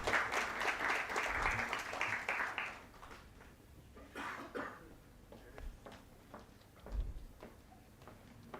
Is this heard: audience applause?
yes